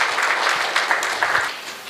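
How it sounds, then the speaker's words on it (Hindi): A short burst of loud, dense audience applause at an Arya Samaj religious talk, with many hands clapping together close by. "एक बार तालियां हो जाए।"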